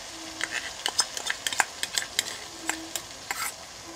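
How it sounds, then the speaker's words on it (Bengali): A cashew and almond paste stirred into spices in a pan for mutton curry, with a rapid run of light scraping and clinking strokes of a spoon over a soft, quiet sizzle. "এখন নেড়ে মিশিয়ে নেব মশলার সাথে"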